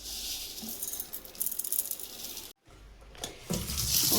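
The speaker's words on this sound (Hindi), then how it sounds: "पानी बढ़ाते हैं।" Tap water runs steadily into a kitchen sink or pot as more water is added, a broad continuous splashing that cuts off briefly, then resumes louder; no talk over it.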